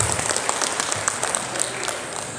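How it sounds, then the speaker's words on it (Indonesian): An audience at a cultural gathering in Malang claps loudly and evenly throughout, a dense continuous patter of many hands. "Sekali lagi boleh kita berikan tepuk tangan Bapak Ibu semuanya"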